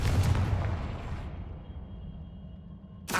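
A Confringo fire spell explodes in Hogwarts Legacy, a sharp booming blast with a deep rumble that decays over a couple of seconds, followed by a brief burst at the end.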